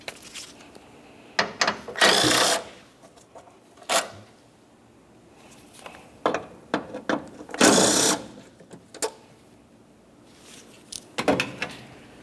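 Ratcheting and wrench work on the two 10mm bolts holding the wiper assembly of a 2009-2010 Pontiac Vibe, heard as close, repeated bursts of clicking and grinding separated by short pauses.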